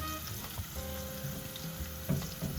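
Chopped onion frying in hot oil in a pan, a steady close sizzle with bursts of crackling spitting, heard alone without talk.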